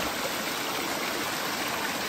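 A forest stream flows down from the mountains with a dense, steady rush of water. The sound is close and continuous, with no voices over it.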